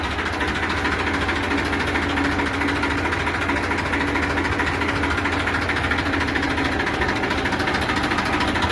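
A 241 double-clutch farm tractor runs with a continuous, close engine drone that stays even and unbroken, like a steady idle with a rough mechanical vibration.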